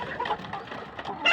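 Chickens of the Tiger, Egyptian Fayoumi and native breeds cluck and squawk close by while fed paddy grain and broiler starter feed, short busy calls ending in a louder burst.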